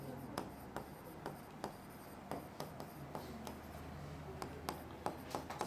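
Chalk or marker strokes on a board during a physics lecture, with short, faint taps and scrapes repeating in an uneven rhythm over a quiet room.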